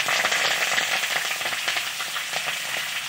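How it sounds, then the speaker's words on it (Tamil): Dry red chillies sizzling in hot oil in a pan, a dense, steady, loud crackle with faint scraping of stirring running underneath throughout. "கிள்ளி வச்ச மிளகாயை போட்டு லைட்டாக ஒரு கிண்டு கிண்டிட்டு"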